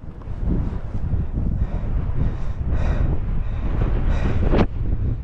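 Wind buffets a microphone during an outdoor holiday ride jump session, a steady low rumble with rising gusts throughout, alone without talk.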